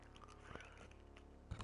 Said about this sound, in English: Crunching a Fox's Glacier fruit.